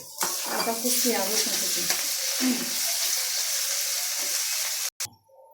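Whole spices and a bay leaf frying in a pan, a steady loud sizzle with stirring scrapes running nearly five seconds before cutting off abruptly.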